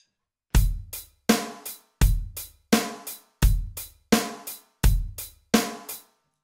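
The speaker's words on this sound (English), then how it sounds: "When you first start playing the drums, you sound like this." Beginner drum groove on a kit with hi-hat, a slow, steady pattern of eight evenly spaced hits mixing bass drum, snare and cymbal, loud and close with no talking.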